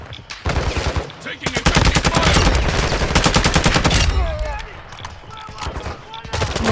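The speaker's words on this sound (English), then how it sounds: "Taking effective fire." Rapid automatic gunfire in a military shooter game, loud and close, with sustained bursts for several seconds before easing into scattered shots while players talk.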